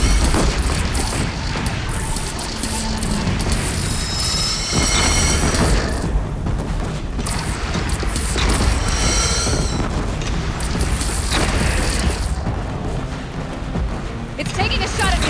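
Cannon fire booms repeatedly during a battle in the Horizon Zero Dawn Remastered video game, dense and loud amid continuous combat noise, with voices talking over it.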